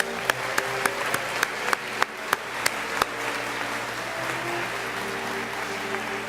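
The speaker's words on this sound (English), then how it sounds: "Let's give them a round of applause." An audience claps at a ninth-grade patch ceremony. A few evenly spaced, sharp claps ring out over a steady hall murmur for about three seconds, then fade into the continuing background hum.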